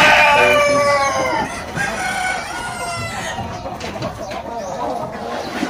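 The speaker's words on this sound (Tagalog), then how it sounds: "nandito yung mga Rhode Island Red natin, sir" Rhode Island Red chickens on a poultry farm, a rooster's crow opening loudly, then scattered clucking from the flock with someone talking over it.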